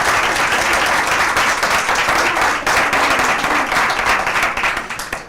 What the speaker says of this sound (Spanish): le vamos a recibir con un aplauso si os parece.